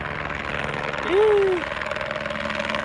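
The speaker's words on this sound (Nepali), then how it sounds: "हेलिकप्टर फेरि यतैबाट हो" A steady helicopter engine drone hums throughout, on a mountain trek route to Annapurna Base Camp, with a brief rising whistle partway through.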